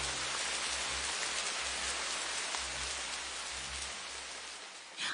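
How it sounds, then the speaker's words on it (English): Steady rain falls in a dense, even hiss that stays loud and unbroken for several seconds, with no voices over it. "Oh, rain at last!"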